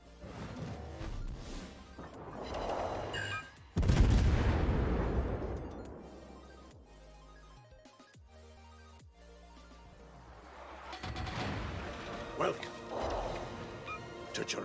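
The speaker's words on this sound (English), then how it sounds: "The Montana took a salvo at me from like 25 kilometers." Battleship Montana firing a gun salvo in World of Warships, heard as a sudden heavy blast that decays into a long rumbling tail, with game effects and a voice talking in the background.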